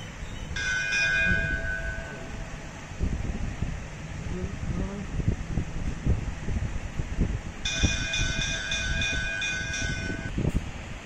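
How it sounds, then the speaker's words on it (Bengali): A hand bell rung during home puja worship rings in two sustained bouts separated by a pause, over a noisy room background with some voices. "ঘন্টাটা বাজা"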